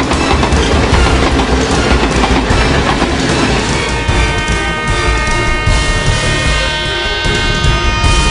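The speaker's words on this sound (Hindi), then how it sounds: "ट्रेन ग्वालियर स्टेशन पर पहुंच चुकी है।" Train pulling into Gwalior railway station, a loud, steady rumble of rolling wagons with rhythmic clickety-clack from the wheels, continuous throughout.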